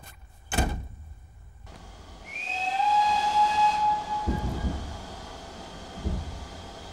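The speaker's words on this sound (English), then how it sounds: "Oh, listen. I can hear the whistle." A steam train whistle blows for a couple of seconds, loud and shrill over hissing steam, framed by a sharp thump before and dull clunks afterward, with no voices.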